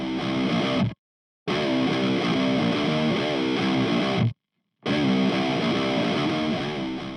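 Heavily distorted electric guitar through the Brainworx Rocker Gain amp plugin with a 4x12 cabinet, high gain and reduced bass, playing chugging riffs in three loud bursts separated by brief silent gaps, no voices.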